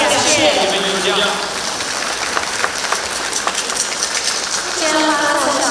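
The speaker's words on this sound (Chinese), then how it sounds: "让我们掌声 再次感谢 你们艺术家" Concert audience applauding the artists at an awards gala, a dense sustained wash of clapping from many hands, loud throughout with a voice faintly mixed in.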